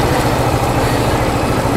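A motorcycle engine idles close by with a steady, loud, rough low-pitched rumble that holds unchanged throughout, with no voices.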